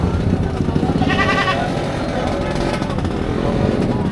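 A large goat bleats once in a short wavering cry amid ongoing voices and background engine noise, fairly close by, at a livestock market in Padre Garcia, Batangas.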